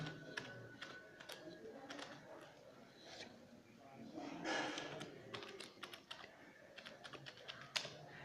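Keys tapped on a computer keyboard while a command is typed to reformat a bootable USB pen drive, a quiet irregular run of close clicks and taps with short pauses between bursts.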